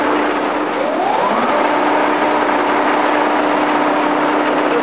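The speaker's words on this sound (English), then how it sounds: "Right now we're seeing the spindle turn at 10 RPM." A Giddings & Lewis 340-T table-type horizontal boring mill with its spindle turning at 10 RPM, producing a steady, loud mechanical drone and hum with a rising whine that levels into a constant tone.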